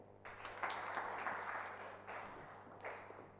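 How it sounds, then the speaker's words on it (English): Audience applause at a university entrepreneurship training session in Nairobi, a fairly quiet, steady patter of clapping from a modest crowd that swells and fades over a few seconds. "Let's clap for her again."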